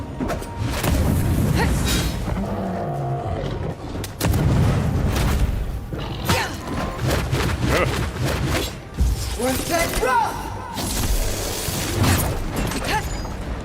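Grenade explosions in the video game Avowed, repeated heavy booms and blasts mixed with combat clatter, loud and close, with a voice talking over much of the action.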